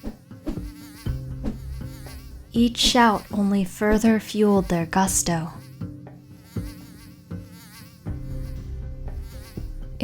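Mosquitoes whine in a forest, a thin, continuous high buzzing close by that runs beneath a narrating voice, swelling briefly between lines and lingering alone at the start and end.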